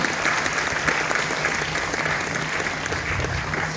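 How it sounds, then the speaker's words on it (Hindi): An audience at a comic poetry gathering claps loudly and continuously, a dense, even wash of applause from a large crowd with no speech over it. "एक बार जोरदार तालियां विवेक जी के लिए बजा दीजिए"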